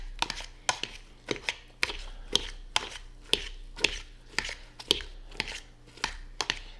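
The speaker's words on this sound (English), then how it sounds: "You want to mash them until they're nice and smooth." Cooked potatoes for an Irish shepherd's pie are worked smooth with a hand masher, giving steady, evenly spaced thumps and squelches, close and fairly loud, with no talking.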